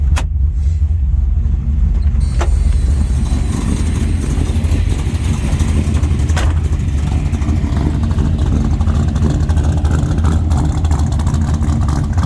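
A 1974 Chevy Malibu engine idles through dual 3-inch exhausts with Cherry Bomb Vortex mufflers, a deep, steady rumble, loud and close, holding a constant throaty drone throughout with no talking.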